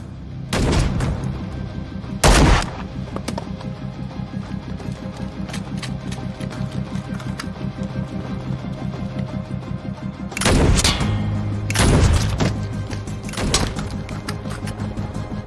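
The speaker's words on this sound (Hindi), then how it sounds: "गोलियां चली, गोलियां चली, गोलियां चली।" Sharp gunshots from a film crack out in scattered bursts over a steady background hum, with a few loud volleys near the start and later on.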